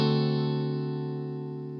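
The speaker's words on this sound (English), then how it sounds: "So we're going to start with the dominant 7 because it's so common," A dominant seventh chord, a major third stacked with a minor seventh, rings out as one sustained harmonic chord that fades slowly, with no talking.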